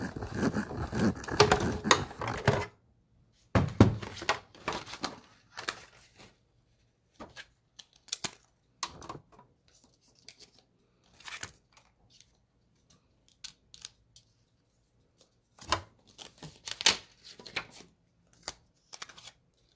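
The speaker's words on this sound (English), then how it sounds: "Then I'm going to die cut my scallop circles." Scallop circles being die cut for crafting, heard as scattered crisp clicks, crunches and paper handling with a longer loud rustling stretch at the start, close by and without talk.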